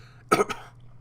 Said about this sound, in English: like a little cough right there